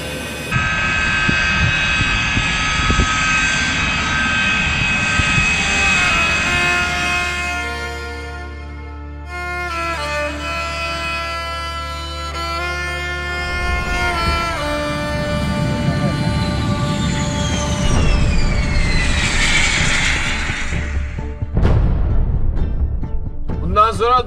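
The KIZILELMA unmanned jet aircraft engine runs up at test throttle, a loud sustained whine with shifting tones that swells and sweeps over about twenty seconds, with voices briefly heard.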